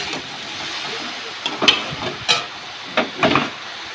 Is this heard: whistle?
no